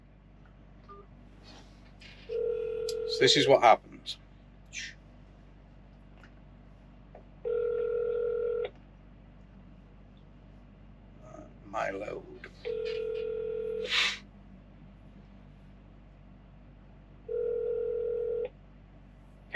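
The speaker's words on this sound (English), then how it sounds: "This is me calling TQL." Phone call to TQL: bursts of DTMF dialing tones followed by repeated ringback tones at regular intervals, a voice speaking briefly over the tones.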